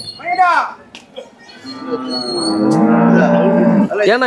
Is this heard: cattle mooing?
yes